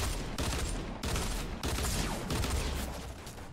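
Burst-fire weapon shots ring out in a shooter game, loud, dense volleys in short separated bursts with brief gaps between them.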